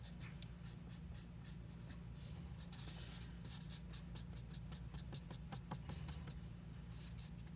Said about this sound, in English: I'm just going to go over very lightly with my smudging stick or stump and soften those lines up